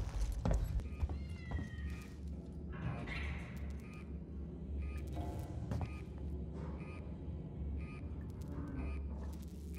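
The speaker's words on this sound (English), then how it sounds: "Is that a cat?" A cat meows several times in the Alien: Isolation survival horror game, short plaintive cries rising over a low droning ambient hum, with no talking.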